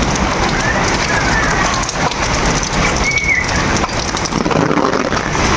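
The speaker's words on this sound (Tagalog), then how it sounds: "Kaunting ulan lang yan mga madam." Light rain falls in a steady, loud hiss with no clear pauses, close around the listener, with faint background sounds.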